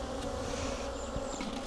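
A steady, close buzz of honey bees swarms at an opened hive, a continuous droning hum without a break over the short stretch.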